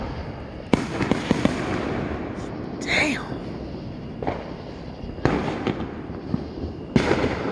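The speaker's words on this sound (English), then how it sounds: "I know pets don't like fireworks" Fourth of July fireworks bang repeatedly at irregular intervals under a night sky, sharp cracks and booms near and far with a brief whistling rocket, while a man exclaims once.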